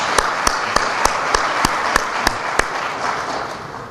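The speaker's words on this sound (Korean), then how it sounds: "박수 한번 치시죠, 우리." Audience applause at a football coaches' seminar in a hall, with dense steady clapping and sharp louder claps landing at a regular beat, sustained and full throughout.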